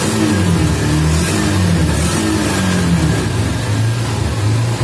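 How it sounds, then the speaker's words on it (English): Hero Xtreme 160R BS6 motorcycle engine revs steadily and loudly up close for the whole stretch, a continuous throaty drone with no talking over it. "we will rev the accelerator"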